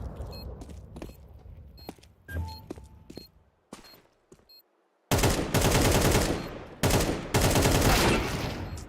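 Gunfire in Counter-Strike 2: a few scattered sharp shots and clicks, then two dense, loud bursts of rapid automatic fire close up.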